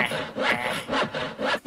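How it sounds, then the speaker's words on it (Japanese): Rhythmic back-and-forth strokes of a saw cutting through wood, close and loud, about four strokes. "ノコギリ攻撃だ。"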